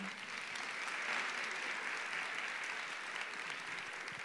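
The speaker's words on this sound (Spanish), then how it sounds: "¿Le podemos aplaudir, por favor?" Applause fills a Spanish-language youth forum, a steady, dense wash of many hands clapping from an audience, held evenly throughout without a break.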